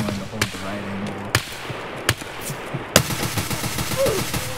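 Gunfire in the first-person shooter Escape from Tarkov with a cheap budget rifle build: several sharp, loud single shots spaced irregularly, the last followed by a fast burst of rapid shots over a busy ambient game background.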